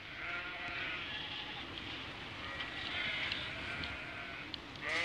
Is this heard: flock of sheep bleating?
yes